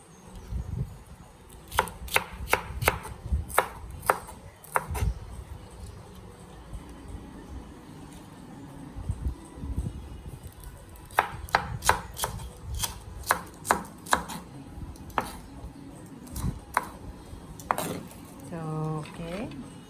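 A knife chops through a green bell pepper on a cutting board, with quick bursts of sharp, close cuts separated by pauses and a faint room murmur underneath.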